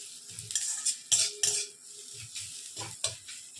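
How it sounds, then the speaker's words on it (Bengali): Onions frying in a pan while Bengali chingri potol kosha (prawn and pointed gourd) is cooked, with scraping clinks of a utensil stirring in irregular bursts over a faint, steady sizzle, close by. "ততক্ষণ পেঁয়াজটা ভাজা হচ্ছে।"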